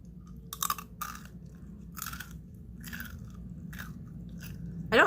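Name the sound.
crunchy food being chewed loudly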